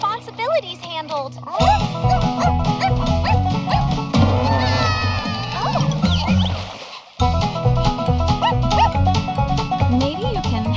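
A dog barks and whimpers among overlapping voices and busy background sounds, fairly loud and steady throughout.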